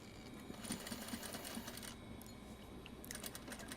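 Sewing machine running in short bursts while zipper pouches are batch sewn, a close rapid mechanical chatter with brief stops and restarts, and no voices.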